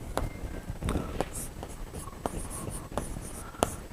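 Chalk or pen writing on a board during a Class 12 accountancy lesson, heard as a series of short scratchy strokes and taps at close range, with no talking.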